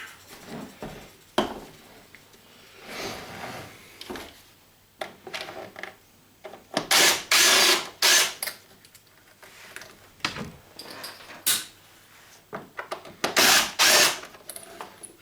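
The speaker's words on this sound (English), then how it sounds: "I'm going to pull off the rest of these screws." Screws being backed out of a scrapped guitar amplifier chassis with a power driver or ratchet, close up, in several short bursts of whirring and clicking separated by pauses, louder clusters near the middle and end, with no talking.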